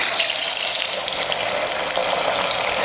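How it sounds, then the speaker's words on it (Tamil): Anchovies (nethili fish) frying in hot oil give a dense, continuous crackling sizzle, close and steady throughout with no talk. "மீனை போட்டு பொரிச்சுக்கலாம்."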